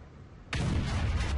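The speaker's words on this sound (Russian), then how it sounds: "отдельно стоит отметить звук при выстреле" An SU-152 self-propelled gun in World of Tanks fires a single heavy shot that cuts in abruptly and loud, a deep booming blast with a sustained rumbling roar that rolls on to the end.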